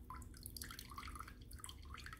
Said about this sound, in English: Completely drain it super,